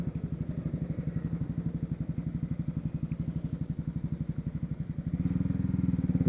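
A Honda CB Twister motorcycle engine idles with a rapid, even putter, steady and close, then grows slightly louder and rougher toward the end.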